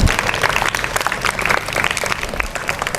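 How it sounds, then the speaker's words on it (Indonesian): Audience applause at a Tuesday-morning Islamic study gathering, dense steady clapping from many hands filling the room for the full stretch, fairly loud and continuous with no talking over it. "Oke, tepuk tangan."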